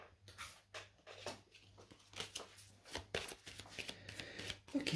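Tarot cards are shuffled by hand, close and quiet, in a run of soft papery riffles and taps with brief pauses between bursts.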